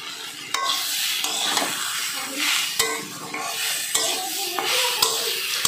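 Lentil dal with vegetables being stirred in a pot, a close scraping and swishing with steady rhythmic strokes over a soft sizzle, occasional sharp clinks of the spoon against the metal rim.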